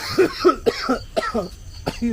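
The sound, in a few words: cough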